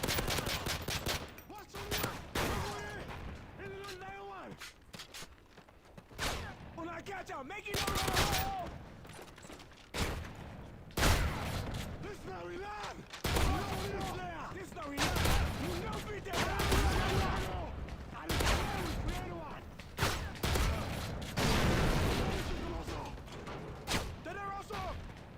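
Rapid pistol and shotgun gunfire in Call of Duty Modern Warfare 3 Survival mode, dense cracking shots and bursts throughout, loud and continuous, with voices talking over the shooting.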